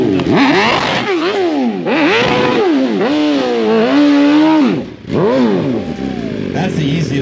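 A BMW motorcycle revs and swoops in pitch during a stunt show at the Barber Vintage Festival, loud and close, with someone talking over it throughout.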